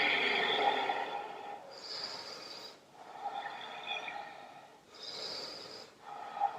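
Slow, deep breaths sound close and clear, alternating long inhales and exhales in an even rhythm while a yoga twist pose is held.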